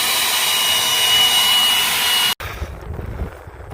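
A loud, steady roar of a blower clearing dust off a combine, cutting out abruptly partway through and leaving a quieter rumbling background.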